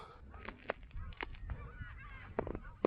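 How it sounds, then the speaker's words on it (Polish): Geese honk repeatedly nearby at a reservoir in southern Poland, several short calls scattered over soft outdoor background noise. "Ptaki sobie latają."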